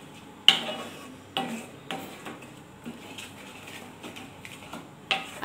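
A spoon stirs milk powder into papaya halwa in a pan, with a few sharp scraping knocks against the metal and softer shuffling strokes between them, close and fairly quiet.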